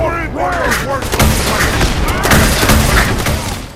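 Rapid bursts of automatic gunfire in Fallout 4 during a Vertibird assault on Fort Strong, loud and dense, with booming shots running continuously under a mix of game sounds and voices.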